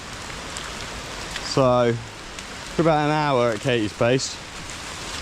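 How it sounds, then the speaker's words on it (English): Heavy rain in North Lombok makes a constant broadband hiss throughout, while a person talks briefly over it. "And it's raining quite a lot now, which is not fun."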